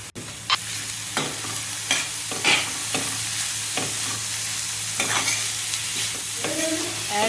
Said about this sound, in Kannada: ಆ್ಯಡ್ ಮಾಡಿ ಈರುಳ್ಳಿ ಮತ್ತು ಕ್ಯಾರೆಟನ್ನು ಚೆನ್ನಾಗಿ ಮಿಕ್ಸ್ ಮಾಡಿದೆ. ಮಿಕ್ಸ್ ಮಾಡಿ ಸ್ವಲ್ಪ ಹೊತ್ತು ಫ್ರೈ ಮಾಡಿದ್ದೇನೆ.